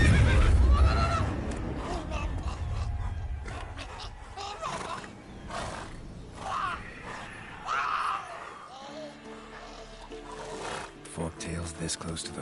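Roach the horse neighing in The Witcher 3: Wild Hunt, a whinny amid game music and ambience, with a voice talking over it.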